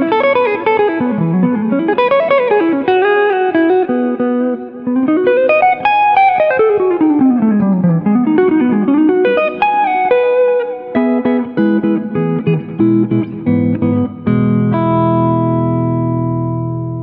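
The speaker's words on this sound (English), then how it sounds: "Let's start by hearing just the neck pickup played clean." Ibanez AM153QA guitar on the neck pickup, played clean: flowing arpeggiated runs of bright, sustained single notes rising and falling, then slower ringing chords that close on a held chord, loud and alone.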